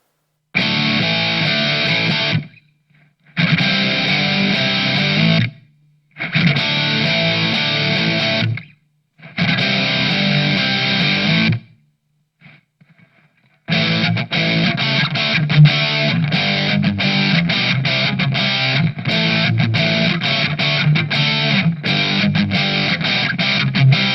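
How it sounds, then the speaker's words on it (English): A humbucker-equipped electric guitar runs through a Marshall CODE 25 modelling amp set to a Plexi model, with stomp box distortion in front for a classic rock tone. Loud, crunchy chords ring in four bursts with short gaps, then become a continuous driven riff. "I've picked a Plexi model with a bit of stomp box distortion going into that for a classic rock tone"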